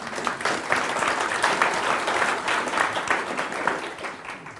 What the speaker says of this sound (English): So, round of applause for Mr. Norman.